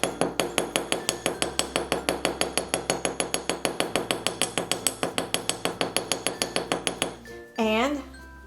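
Wire being hammered flat on a steel block to texture it, with rapid, evenly spaced metallic taps ringing close and loud for about seven seconds, then a brief wobbling metallic ring.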